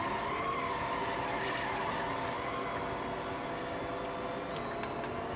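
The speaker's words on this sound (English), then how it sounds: "there's only one engine sound in this game" Racing video game car engine, a steady droning roar with sustained harmonic whine and some tire squeal, loud and continuous throughout with no talking.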